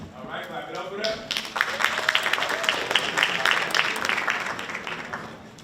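An audience claps for contestants at a Haitian history bee semifinal and final, with dense applause building after a second and continuing under voices talking over it.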